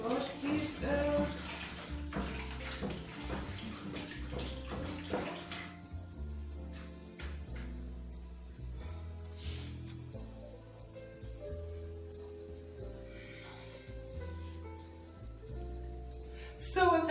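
Running water splashes steadily as a bowl is washed out during outdoor cooking in an African village. The water is loud at first, then the rushing settles to a softer, continuous wash with some clinks.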